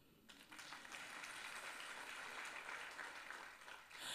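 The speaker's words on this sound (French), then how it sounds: "On va juste l'acclamer." Church congregation applauding a man, a sustained wash of clapping from many hands that swells quickly and holds steady for several seconds before easing off.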